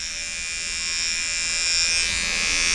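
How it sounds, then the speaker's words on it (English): An electric hair trimmer buzzes steadily up close while laying in a guide line for a skin fade, its hum growing a little louder partway through, with no talking. "Yeah, I'm gonna use my trimmer."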